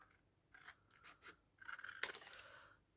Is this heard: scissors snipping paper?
yes